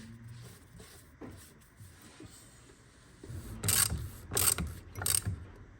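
Ratchet turning to screw a part back into place on a BMW E31 840ci during a service, a few short bursts of clicking in the second half, close and fairly loud after quiet handling noise.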